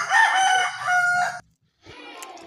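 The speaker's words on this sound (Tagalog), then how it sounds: "Tumilaok na yung manok." A rooster crows loudly and close at 4 AM, one long drawn-out call in two surges, followed after a short silence by a fainter trailing crow or cluck.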